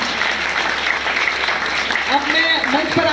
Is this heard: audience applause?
yes